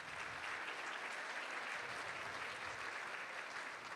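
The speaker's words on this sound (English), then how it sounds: "Let's give them a round of applause." An audience applauds at a fifth-grade school arts celebration, a steady wash of many hands clapping, fairly distant and even throughout.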